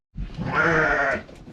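A single drawn-out bleat from a sheep or lamb in a farm flock, loud and close, wavering over about a second with no talk around it.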